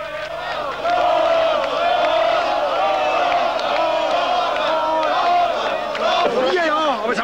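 Football fans cheering and chanting after Fürth's victory and promotion to the Bayernliga, a loud, dense crowd roar that stays strong throughout with rising shouts and singing.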